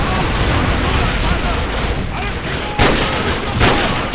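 Dense, loud gunfire from Call of Duty 4: Modern Warfare, with enemies shooting from a building's ground floor, rattles almost without pause in rapid overlapping bursts, and a player talks over it.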